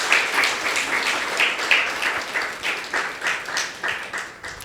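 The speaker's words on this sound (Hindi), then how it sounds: "तो सभी ताली ज़ोर से बजाएंगे।" At a certificate distribution ceremony, an audience claps for a top-scoring student, producing loud, continuous applause with a slightly pulsing rhythm that holds steady and fades a little toward the end.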